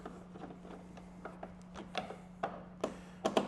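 Ratchet clicks while the six windshield mount bolts go back onto a Harley Road Glide motorcycle: a string of short, sharp ticks in uneven bursts, growing louder toward the end over a faint steady hum.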